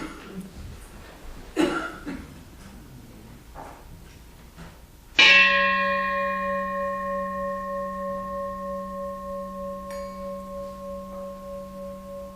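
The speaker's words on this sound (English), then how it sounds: "I'm going to ring the Tibetan bell first" A Tibetan bell is struck once after some quiet room noise, ringing out clearly with a long, shimmering, slowly fading tone that pulses gently as it decays.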